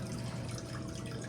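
Water streams steadily through a koi pond filter, a close, continuous broadband rush and gurgle with no pauses.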